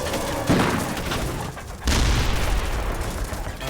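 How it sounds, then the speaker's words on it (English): A 90mm tank cannon fires rounds during a Vietnam War ambush, with heavy booms landing about a second apart over a dense, continuous roar of gunfire. No voices are heard. "firing a lot of cannon rounds."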